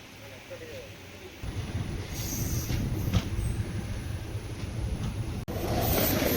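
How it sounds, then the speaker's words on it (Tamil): Train running on rails near Coimbatore-Chennai route in India, a steady rumble with wheel noise and a high squeal, heard from inside or beside the train, with people talking over it. "one 2674 Cheran super fast express Coimbatore to Chennai central"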